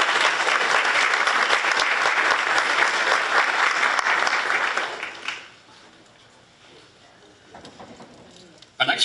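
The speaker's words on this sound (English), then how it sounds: "It's okay to applaud." Audience applause fills a public service recognition ceremony, a dense burst of clapping from a crowd that carries for about five seconds and then fades into quiet room tone with faint voices.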